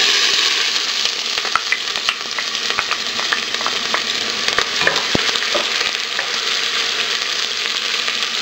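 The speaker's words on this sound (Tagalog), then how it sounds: "Magpapainit lang tayo ng cooking oil dito sa cooking pot. And then, isosotay na natin yung onion." Chopped onion sizzles and crackles steadily in hot cooking oil in a pot, close and continuous, with occasional stirring clicks and no talking.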